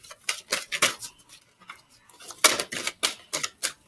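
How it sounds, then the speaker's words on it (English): Oversized tarot cards being shuffled by hand, a run of crisp riffling slaps and flutters in uneven bursts, close and fairly quiet, with no voices. "Shuffling."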